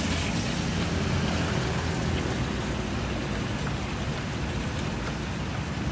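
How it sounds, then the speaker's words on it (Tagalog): A strong current of water rushes steadily at a water-fetching spot, making a loud, unbroken broadband roar with no break or voices. "Malakas ang agos ng tubig."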